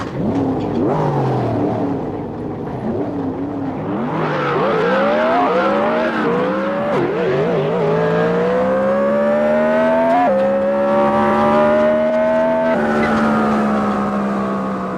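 A short race car in a racing video game launching off the line in third gear at full turbo, its engine note climbing and dipping through several gear changes as it holds a loud, close, sustained roar.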